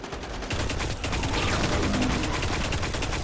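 Rapid gunfire in a firefight in the video game Destiny, with dense bursts of automatic shots repeating in a fast, steady rhythm, loud and close, after a brief quieter lead-in.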